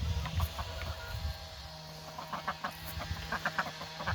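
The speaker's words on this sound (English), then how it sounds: "Chickens and ducks are out eating their food and water," Chickens and ducks feeding on farm food and water in the morning, giving soft scattered clucks and short quacks at close range over a steady low outdoor hum.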